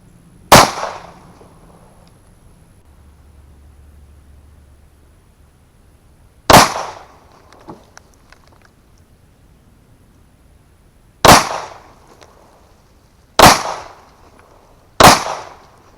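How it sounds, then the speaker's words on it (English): Five sharp gunshots from a Smith & Wesson 30 Super Carry pistol, loud and close, fired singly with irregular gaps of a few seconds, each crack decaying quickly against a quiet outdoor background. "I went ahead and took a few shots"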